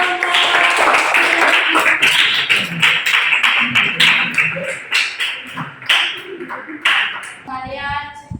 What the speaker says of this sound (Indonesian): Oke, tepuk tangan untuk Rama